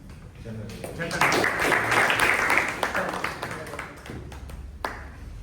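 An audience claps for a speaker at a Toastmasters meeting, a moderately loud wash of applause that swells and then thins into scattered claps, heard alone.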